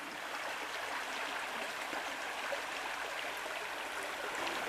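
Stream water flows steadily, a constant near rushing wash with no pauses, alone and fairly soft.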